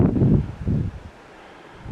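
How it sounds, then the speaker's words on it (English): Strong seaside wind at Grosnez Castle, Jersey, buffets the microphone in low rumbling gusts for about a second, then eases to a quieter, steady outdoor hiss. "Maybe not when it's this windy though."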